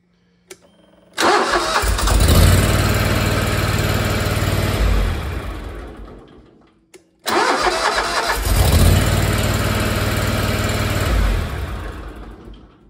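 A Ferris ISX3300 zero turn mower with a Vanguard 37HP engine cranks and fires up twice, each time roaring loud and close before winding down, with a brief pause between the two starts.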